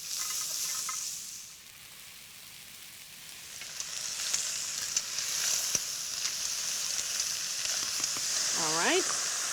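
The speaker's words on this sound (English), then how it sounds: "Now that everything is nice and hot, I add my mussels." Mussels hit a hot pan with garlic and sizzle, a steady bright hiss that swells toward the end, with a voice speaking briefly over it.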